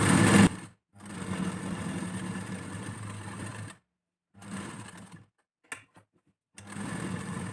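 Sewing machine stitching slippery velvet blouse fabric, a close, steady motor whir running in several bursts separated by brief silences and small clicks.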